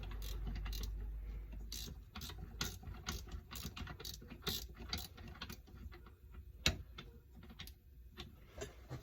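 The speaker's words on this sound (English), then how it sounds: "got a wrench here" A wrench ratchets while removing a bushing from an HPC Speedex key cutting machine, a close, quiet series of sharp clicks in irregular bursts, with a low hum at the start.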